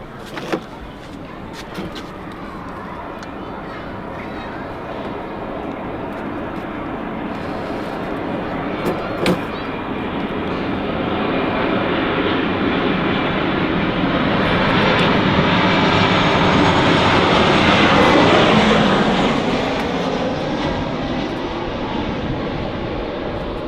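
A Ryanair airliner lands at Manchester Airport. Its jet engine roar builds steadily from a distant rumble to a loud, broad whoosh at its peak and then eases slightly, heard from outside near the runway.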